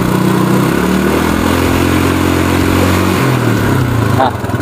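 A Yamaha Mio scooter engine held at high RPM, a loud, buzzing, steady rev with slight pitch wavering, close by, dropping off abruptly near the end.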